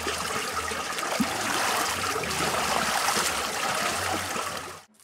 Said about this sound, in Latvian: Ūdens nāk tieši no siltās upes, un termālās upes uzpilda baseinu, un tad tek projām